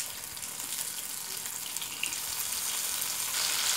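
Steady, close sizzling of boiled bananas frying in hot oil, a dense hiss that swells slightly toward the end, with no voices.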